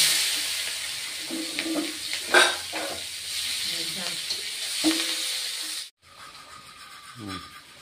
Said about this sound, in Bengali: তেল দিয়ে দিলাম, কুচানো পেঁয়াজ ফোড়ন দিচ্ছি